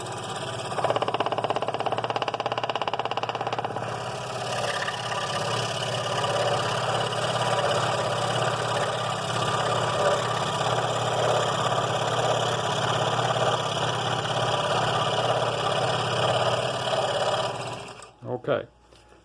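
A scroll saw blade cuts through wood in a steady buzzing drone that holds for most of the stretch and then stops abruptly, while a person talks over it.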